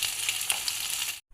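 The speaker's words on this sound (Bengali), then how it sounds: "মাছগুলো আমি এইভাবে ভেজে নিচ্ছি" Pabda fish fry in hot oil in a pan, making a dense, close crackling sizzle with small pops throughout that stops abruptly after just over a second.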